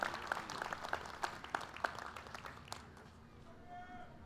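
Audience applause for dignitary guests at the Choctaw Indian Fair opening ceremonies, heard as a string of crisp, fairly regular claps over an indoor murmur, thinning out toward the end.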